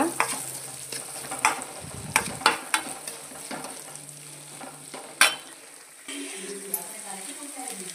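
Vegetables frying in a pan for vegetable rice bath, steady sizzle broken by a run of sharp scraping and clinking stir strokes, then the sizzle rises again.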